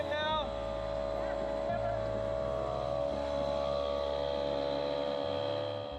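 A small 3.3 hp outboard motor drones steadily as it pushes a Hunter 33 sailboat through a narrow channel with strong current, a constant close hum with a brief higher whine at the start.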